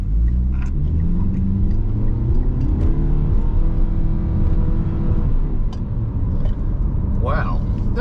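Mitsubishi ASX with a CVT accelerating, a loud low engine rumble with a smoothly rising drone heard from inside the cabin, with a person talking over it.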